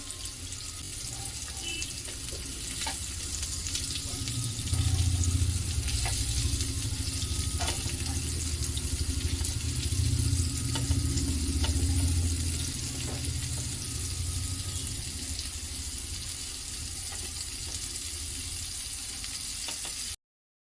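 Black pomfret fish frying in a pan, a steady, continuous sizzle and crackle of hot oil that runs the whole length with slight swells, fairly close and with no talking.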